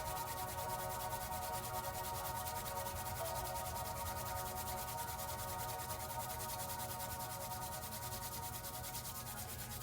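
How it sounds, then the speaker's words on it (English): Two palms rubbed briskly together to build warmth, a steady, close, continuous swishing friction that runs without break and without any voice. "begin to rub your palms. Create some heat between your palms"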